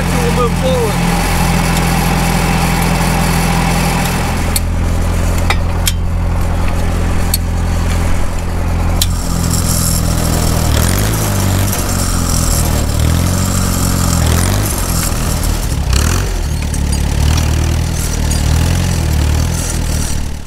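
A Ford F-250 pickup engine runs steadily close by on a bison ranch, a continuous low rumble with people talking over it throughout.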